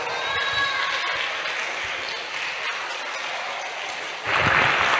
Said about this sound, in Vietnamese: Cho mấy anh tràng pháo tay luôn.